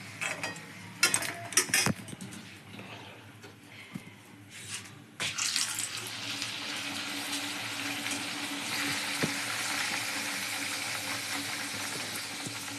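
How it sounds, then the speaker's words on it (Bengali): Pea kachori deep-frying in hot oil over a high flame, a steady broad sizzle that swells after a few early clattering knocks and then holds evenly, close and moderately loud. "তেলটা ভালো করে গরম করতে হবে এবং গ্যাসটা জোরে দিয়ে ভেজে নিতে হবে।"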